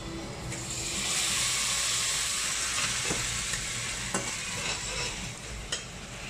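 Steady sizzling and crackling of dried prawns frying in a hot pan, with occasional clinks of a utensil stirring, close and continuous.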